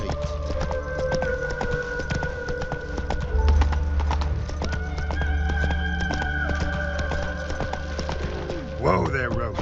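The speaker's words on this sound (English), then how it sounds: "Whoa there, Roach" Horse hooves clip-clop steadily in The Witcher 3, close and continuous, with a brief whinny near the end; game dialogue and ambient music play throughout.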